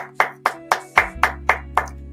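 Seven crisp hand claps ring out at a steady, even pace, close and clear, over a faint low background hum.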